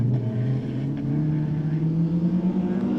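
Super Modified rallycross cars racing at Blyton in the 2017 BTRDA Rallycross Championship make a continuous, fairly loud engine drone that holds a steady pitch for three seconds, with no speech.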